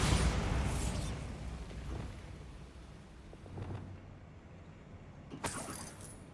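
A Bombarda explosion spell in Hogwarts Legacy bursts with a loud initial blast, followed by a rumbling debris tail and a couple of sharper crackling pops.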